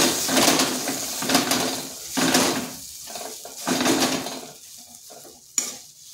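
Boiled potatoes are stirred and fried with spices in a pan, giving loud scraping and sizzling strokes in uneven bursts with short pauses and a single sharp clank near the end.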